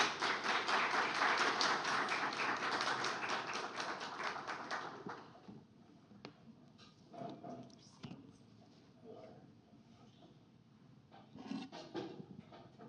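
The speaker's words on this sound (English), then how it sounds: "So if everybody give them a little round of applause for coming out" An audience at an architecture talk on LGBTQIA+ stories applauds to welcome the speakers, a dense wash of clapping for about five seconds that then thins to scattered claps and quiet room noise.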